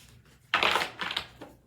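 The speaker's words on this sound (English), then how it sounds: "it does shuffle, get your hands around it quite well, ripple shuffle" Tarot deck of oracle-size cardstock cards being ripple shuffled close by, a short soft burst of fluttering card riffle followed by a couple of quieter taps as the cards settle.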